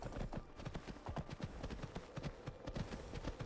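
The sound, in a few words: horse hooves in Skyrim video game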